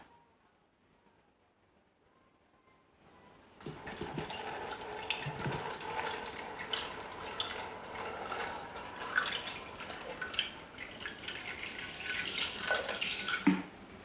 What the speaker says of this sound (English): we're going to add 600 grams of water